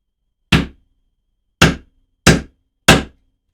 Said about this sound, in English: Try and find a little guy to hammer in there.